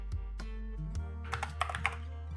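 A short burst of computer keyboard clicks entering a terminal command, closely miked, with a few sharper key strikes after a low steady hum.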